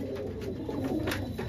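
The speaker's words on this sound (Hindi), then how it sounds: "लाल चीना कबूतर है।" Red cheena pigeons at a home loft giving soft, low cooing calls under steady background noise, a brief murmuring burst heard close by.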